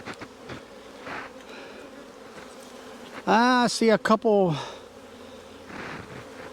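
Honeybees buzzing around an opened hive during queen cage removal, a steady faint drone throughout with a louder buzzing burst close by partway through, under brief talk.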